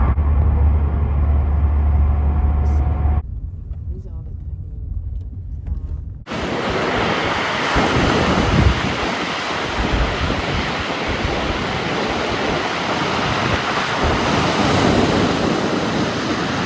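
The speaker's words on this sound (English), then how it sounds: "At the beach. It's the ocean." Ocean waves roll onto a beach, heard first muffled and quieter, then from about six seconds as a loud, continuous wash of surf mixed with wind buffeting the microphone.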